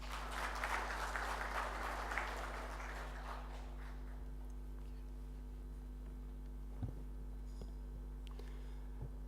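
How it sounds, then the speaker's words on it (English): Applause from an audience at a conference seminar fills the opening seconds, then fades out, leaving a steady electrical hum with a few faint knocks. "Please welcome him with a big applause."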